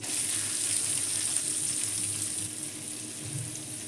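Two finely chopped onions fry in hot oil with asafoetida, producing a loud, continuous close sizzle that holds steady and eases slightly toward the end.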